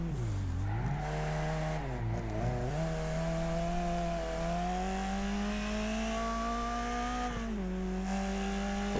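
Race cars compete in the Wreckfest video game, with a close, continuous engine drone that rises and falls as the car shifts and revs through corners, with no talk over it.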